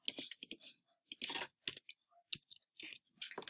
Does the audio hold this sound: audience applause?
no